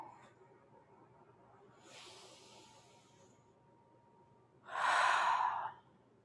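Breathing during iaido body movement: a soft, airy inhale, then a louder, forceful breathy exhale close to the microphone, in an otherwise quiet room.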